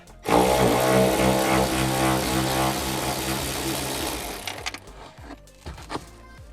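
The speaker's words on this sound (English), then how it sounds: "I'm going to get my ratchet in" A ratchet tightens a bolt under a car headliner, with a loud, steady mechanical whir for about four seconds that ends in scattered clicks and knocks.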